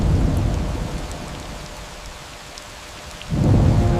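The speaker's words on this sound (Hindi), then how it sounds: "एक दिन जंगल में तेज बारिश होने लगी।" Heavy rain falls in a forest while thunder rumbles, loud at first, easing to a steady downpour, then swelling again with another deep rumble near the end.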